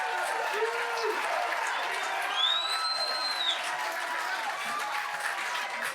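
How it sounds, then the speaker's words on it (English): Audience applause and cheering from a crowd at a congressional debate, a steady wash of clapping lasting several seconds with a faint whistle-like tone rising partway through. "if you could hold your applause, there'll be ample opportunity for that."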